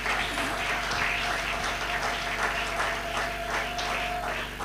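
A church congregation applauds during a sermon, giving a steady wash of many hands clapping at moderate distance, continuous throughout with a faint sustained tone underneath.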